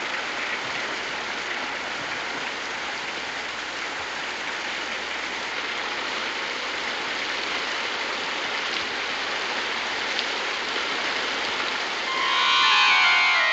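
Steady, dense rain hiss, broadband and continuous, with a brief swell of louder noise near the end.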